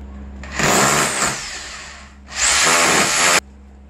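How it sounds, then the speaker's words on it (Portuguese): Power drill boring a hole for a homemade climbing wall, two loud sustained whirring bursts close up, the first about two seconds long and the second about one second, separated by a short pause. "Furei no caso certinho, né?"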